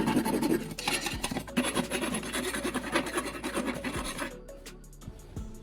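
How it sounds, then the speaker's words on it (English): A metal file rasps along the rough, burred edges of freshly cut metal in a workshop, close and loud, with a steady run of back-and-forth scraping strokes, then a few lighter taps at the end. "I'm using a metal file to smooth out all the rough edges and burrs"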